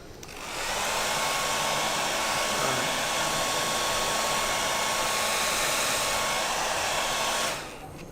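A heat blower warms a decal on the compound curves of a scale model, giving a steady, loud, airy roar that switches on, holds for several seconds and cuts off, with no talking.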